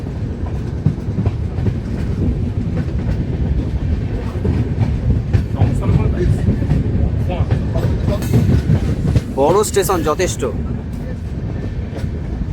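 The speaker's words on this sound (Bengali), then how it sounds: "Howrah সরাইগার express train number one two three four five নির্ধারিত সময়ই কামাক্কা স্টেশন ঢুকেছে" The Howrah Saraighat Express pulls into Kamakhya station with a loud, continuous rumble and clatter of wagons over the rails, a brief screech near the end, and people talking over the noise.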